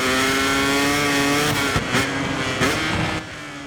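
Motorcycle engine in the MotoGP 24 video game at the Sachenring, held at high revs with steady harmonic whine, then short gear-shift dips as it accelerates out of a corner toward a heavy braking zone, loud and close.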